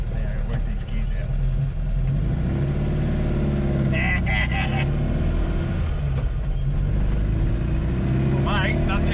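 Custom VW Baja engine droning steadily from inside the cabin while driving on Adelaide roads and working through the gears, a loud low rumble that continues unbroken, with people talking over it.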